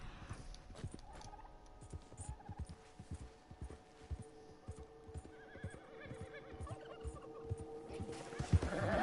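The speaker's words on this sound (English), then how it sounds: "Turkeys nearby." Wild turkeys gobbling in the video game Red Dead Online, a rapid rattling series of gobbles over a steady background with horse hoofbeats clip-clopping throughout, moderately close.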